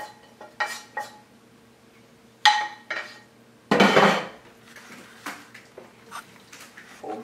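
Clattering kitchen sounds of onions and fresh parsley being folded into a vegetable quiche filling, with a spoon knocking and scraping against a bowl in short bursts, one louder scrape in the middle, close and with no talking.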